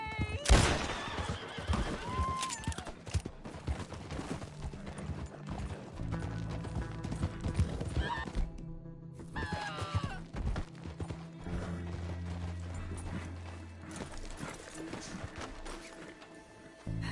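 A horse gallops with rapid clip-clop hoofbeats and lets out a sharp whinny in Red Dead Redemption 2, set among game music and effects with occasional voices.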